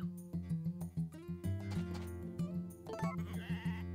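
Sheep on a farm bleat repeatedly in loud, close, wavering cries, several calls overlapping in an irregular rhythm with no talk.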